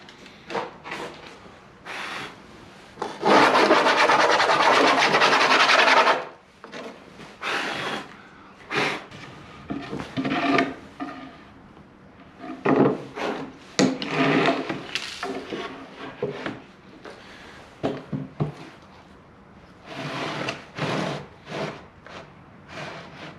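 A router skims across a wood slab held in a flattening jig, with a loud sustained burst of cutting noise followed by shorter, intermittent passes and pauses.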